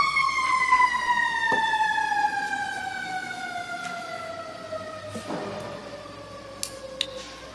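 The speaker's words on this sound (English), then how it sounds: "I'll wait for the siren." A fire engine siren passes outside a town board of commissioners meeting in Nutley, New Jersey. Its steady, falling wail carries in from the street and slowly fades, with no talking over it.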